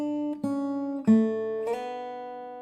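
Acoustic guitar plays the short third riff of a song, three or four plucked notes in quick succession with the last left ringing, close and without talk.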